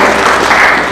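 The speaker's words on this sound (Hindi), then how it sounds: "ताली बजाइए प्रभु परमेश्वर के लिए" Audience applause at a church gathering, a brief dense burst of many hands clapping together, loud and close.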